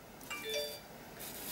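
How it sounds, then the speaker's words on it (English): A phone notification chime plays a short bright two-tone ding, faint and brief over a quiet room. "excuse my telephone noise"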